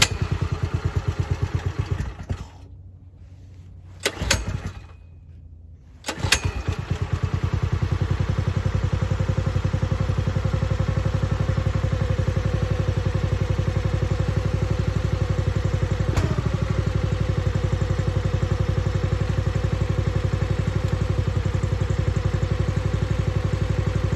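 Harbor Freight Predator small engine on an MTD log splitter, long unused, starting after being choked: brief sputters and pauses, then a steady loud close running drone with a faint thump partway through.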